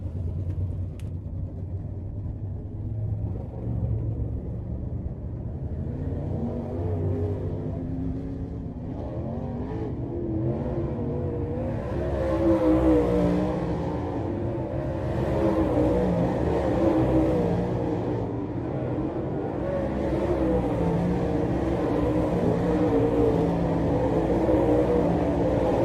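Lucas Oil late model race cars run hot laps at Muskingum, a steady roar of several engines rumbling and revving continuously, swelling louder as the pack comes nearer, with no talk over it.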